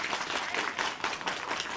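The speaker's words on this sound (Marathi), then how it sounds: "खरंच टाळ्या झाल्या पाहिजे" A short burst of crowd applause greets coronavirus patients discharged from hospital in Mira-Bhayandar, with brisk, dense clapping from nearby.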